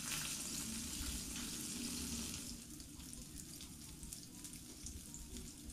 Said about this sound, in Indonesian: Balik sebentar biar margarinnya merata. Kemudian ini kita masak hingga kecoklatan.